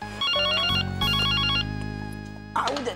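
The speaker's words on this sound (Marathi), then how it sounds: "फोन बोंबलतोय केव्हाचा." A home telephone rings with two clear, warbling electronic bursts over a steady low background hum, fairly close and moderately loud.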